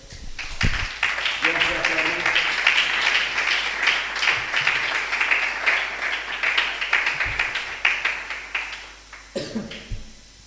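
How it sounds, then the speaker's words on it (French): A church congregation applauds and cheers for the Lord, with sustained dense clapping and some voices calling out, filling the room steadily and tapering off at the end. "Vous pouvez acclamer pour le Seigneur."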